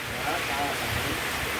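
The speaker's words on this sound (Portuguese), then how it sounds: "Muita ventania nesse momento." Strong wind gusts during a rainstorm in the Brazilian sertão, a continuous roaring rush buffeting the microphone, with a person speaking over it.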